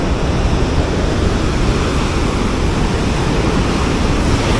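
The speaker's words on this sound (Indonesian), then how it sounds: "Wih, ombaknya kencang banget di sini." Strong ocean surf at Drini beach, a steady loud roar of breaking waves filling the whole clip with no pauses and no voices.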